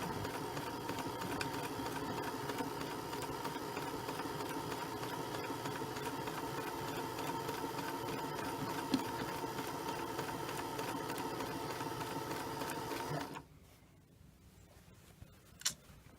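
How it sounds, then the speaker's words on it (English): A sewing machine running steadily with a rapid mechanical whir for several seconds, then stopping abruptly, leaving near silence and a small click. "And just keep on feeding through the sewing machine."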